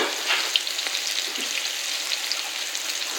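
Chili rellenos frying in oil on a stove, a dense, steady crackling sizzle with small pops, close and continuous, no voices.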